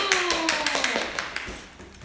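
Children clapping at a year-end attendance award ceremony in a classroom, a brief burst of quick, close hand claps that thins and fades over two seconds, with a voice at the start.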